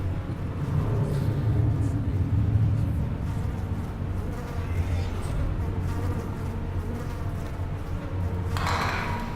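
Buzzing Tesla bees in the video game Tex Murphy: Tesla Effect, a constant droning insect hum filling the scene at steady volume, with faint background noises.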